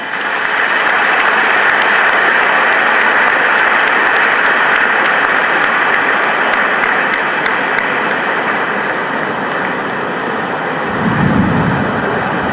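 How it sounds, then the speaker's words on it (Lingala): Loud, sustained applause from a large audience fills a Kimbanguist anniversary gathering, a dense unbroken roar of clapping that stays steady throughout. "Pona yango nasengi ete bobeta maboko makasi."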